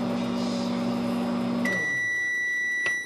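A microwave oven hums steadily for about a second and a half, then shuts off and gives a few high electronic beeps in a quiet room.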